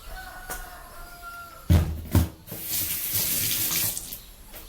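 Running water pours steadily into a cooking pot for a couple of seconds, preceded by a few soft knocks and clatters.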